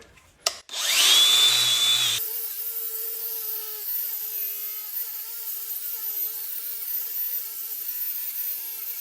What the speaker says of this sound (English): I'm going to run my wire brush on the cover.